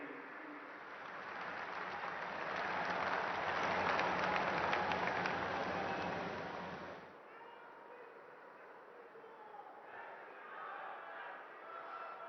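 Sustained applause from a large audience at a political rally in Jind, swelling to a loud peak before cutting off abruptly, followed by quieter crowd noise and murmuring.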